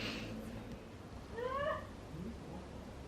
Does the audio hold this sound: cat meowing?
yes